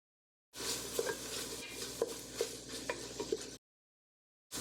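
Garlic sizzles in a soup pot with onions softened until clear. A stirring spoon breaks up the steady hiss with soft scrapes and clinks, then the sound cuts off abruptly.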